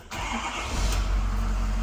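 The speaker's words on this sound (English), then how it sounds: "Let's see if it changes when I start the engine." A Ford 6.7 diesel truck engine cranks and catches, then settles into a steady, loud low idle rumble close by.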